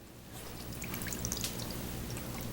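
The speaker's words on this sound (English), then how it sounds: "we're going to add water to the pan to make a bain marie" Water pours into a pan to make a bain marie for baking, a faint, steady trickle and splash running throughout with light dripping on top, no voices.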